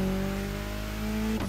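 A car engine revving in the racing video game The Crew Motorfest, a steady loud droning engine note that holds for over a second before shifting pitch near the end.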